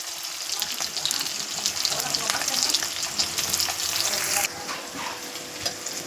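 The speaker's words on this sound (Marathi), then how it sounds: "कांदा चांगला परतून घेऊया लसूणही टाकूया" Onion and garlic sautéing in hot oil in a pan, a loud continuous sizzle with crackling spatter and stirring, easing to a softer fry near the end.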